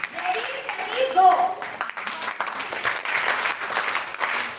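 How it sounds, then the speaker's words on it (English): A group clapping hands together in a classroom or training session, a dense patter of applause running steadily throughout over a noisy room with some voices mixed in. "Clap, clap."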